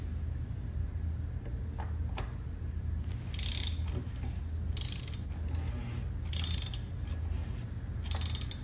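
A ratchet wrench clicks in short repeated bursts as a new oil filter is tightened on a Porsche Cayenne, close up over a low steady hum.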